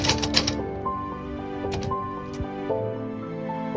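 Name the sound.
typewriter typing the Indonesian proclamation text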